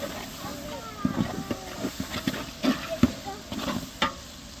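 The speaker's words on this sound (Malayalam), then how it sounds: "നല്ല ഫ്രഷ് തൈരാണ് കേട്ടോ നന്നായി ഇളക്കി കൊടുക്കുക" Fresh curd is stirred into biryani masala in a pan, giving repeated spoon scrapes and soft wet squelches over a low sizzle, with a voice faintly in the background.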